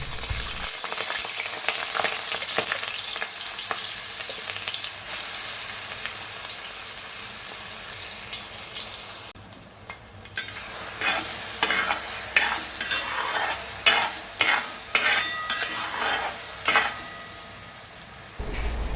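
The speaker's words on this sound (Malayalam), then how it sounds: "നമുക്ക് ഈ ചക്ക അരച്ചത് ഇതിലേക്ക് ഇട്ട് കൊടുക്കാം." Ground jackfruit paste frying in melted ghee and being stirred, for a sweet jackfruit snack: a steady loud sizzle with repeated scraping stir strokes that grow busier and more clattery in the second half.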